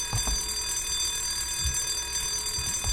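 An alarm rings continuously and loudly in the White Day remake video game, a steady metallic bell-like tone with faint low thuds and footsteps underneath.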